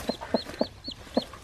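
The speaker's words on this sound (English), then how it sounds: "I think I heard some chirping." Newly hatched chicks on a farm peep in a quick run of about six short, bright calls, close and clear against a quiet background.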